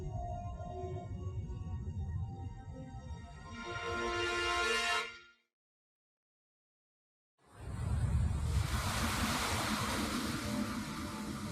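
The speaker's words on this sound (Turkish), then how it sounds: "Burası Pantalassa Okyanusu'nun kıyısı." Ocean waves wash against the shore of the ancient Panthalassa Ocean, a steady broadband rush broken by a sudden two-second silence before the surf returns just as full, with tonal layered sound mixed in early on.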